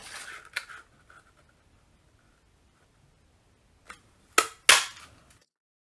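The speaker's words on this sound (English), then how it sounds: "And use the Pine Tree Builder Punch to punch that out." Pine Tree Builder Punch cutting through stamped cardstock: a sharp click near the start, a quiet gap, then a cluster of three crisp snaps and clacks close up near the end, with no talking.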